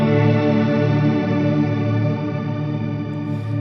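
A sustained guitar chord rings out with heavy reverb and a gentle wavering pitch, the shimmering tone holding steady before easing slightly.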